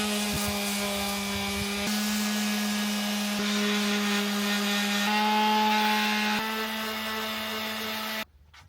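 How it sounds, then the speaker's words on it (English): A small power sander whining steadily against rusty metal on a Harley Davidson Sportster 1200, a loud continuous tonal drone with slight pitch shifts that cuts off abruptly near the end. "a small sander"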